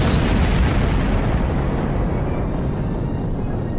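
Explosions in a video game: a sustained, loud low rumble of blasts and booming detonations rolling together into a dense, continuous roar with no talk.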